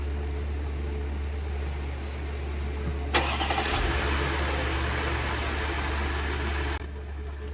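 An Audi/VW 3.0T engine, just fitted with a new timing chain, cranks briefly and catches, then idles smoothly and quietly for a few seconds before shutting off.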